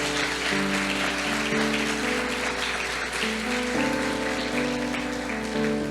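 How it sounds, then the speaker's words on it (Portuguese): Church congregation applauding during a thanksgiving service, a dense, steady wash of clapping that lasts throughout, layered over sustained keyboard chords that shift partway through. "dê uma salva de palmas ao Senhor"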